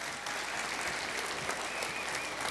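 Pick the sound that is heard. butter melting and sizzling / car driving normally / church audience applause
church audience applause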